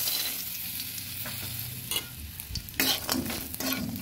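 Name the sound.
bori lentil dumplings frying in oil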